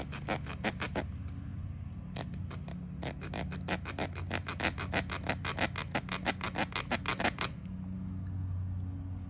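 Rapid rasping saw strokes from a Lengren Darter LR-869 folding knife's saw teeth in 14C28N steel biting into kiln-dried hardwood, a steady back-and-forth rhythm of roughly twenty close, sharp strokes with brief pauses, no talking.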